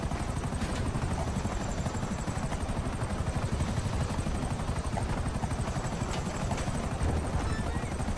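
A video-game helicopter's rotor thumps steadily and loudly throughout, a continuous whirring chop with a high engine whine above it, in GTA 5 Online.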